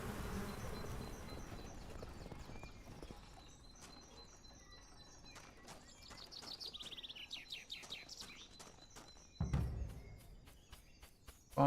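Buzzing bees in the survival crafting game Ars Notoria form a steady insect drone with chirpy, bird-like calls over it, fairly quiet throughout, with a louder burst near the end.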